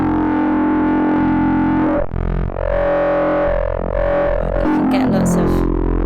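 A visual-to-audio synthesizer built as a Max patch sends out a continuous, loud, distorted buzzing drone. Its tone shifts abruptly about two seconds in and again near the end, with harsh high crackles at the close.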